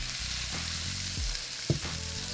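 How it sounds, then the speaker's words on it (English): Roasted garlic frying in a pan for Cajun shrimp Alfredo pasta, with a steady, loud sizzle and occasional stirring scrapes and clanks throughout. "So I got some roasted garlic, and I'm gonna add that in there. I'm gonna mix this up."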